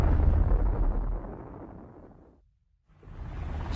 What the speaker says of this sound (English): It explodes with a force of 10 million tons of TNT